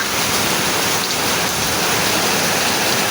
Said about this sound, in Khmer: ភ្លៀងខាងខ្ញុំកំពុងភ្លៀងហើយពេលនេះ